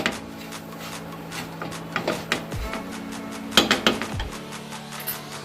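Cream stirred into a rava ladoo mixture in a pot: a spoon scrapes and clinks against the metal in irregular strokes, with a couple of louder knocks over a low, steady hum in the background.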